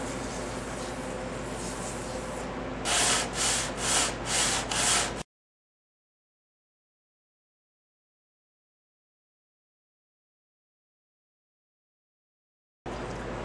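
Sandpaper rubs across the gasket surface of a V-twin engine in a burst of steady strokes, then about four quicker, louder back-and-forth scrubs, close by, followed by a long stretch of silence.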